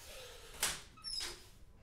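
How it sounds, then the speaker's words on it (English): A door is opened indoors with two quick, faint bursts of sliding, scraping noise and a light metallic squeak, set against quiet room tone. "I gotta open this door."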